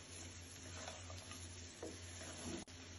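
Biryani rice with fried garam masala and salt being stirred in a pan: continuous soft sizzling with scraping stir strokes and light clinks, quiet and close, no voices.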